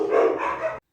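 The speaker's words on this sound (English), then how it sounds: "Sorry about the dogs barking there." Dogs barking at home, one short loud woof filling most of a second before cutting off abruptly.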